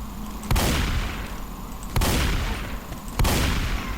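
Three loud gunshot bursts, evenly spaced about a second and a half apart, each decaying into a ringing echo, ring out from Left 4 Dead 2 on the Fatal Freight campaign's third map.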